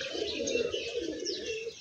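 Pigeons coo in a soft, continuous throaty murmur, close and fairly steady, with a few faint chirps above it and no talking.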